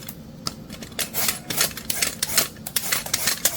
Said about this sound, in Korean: 노각을 반으로 자른 다음 겉껍질은 필러로 벗기면 됩니다.